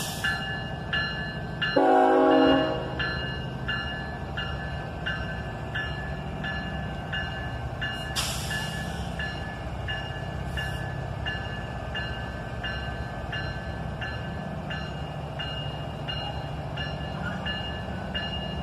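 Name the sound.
heavy freight train struggling to start moving, horn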